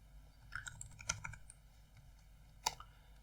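Quiet, close clicks of computer keyboard keys as a password is typed, a few scattered taps in an uneven rhythm with one sharper keystroke near the end.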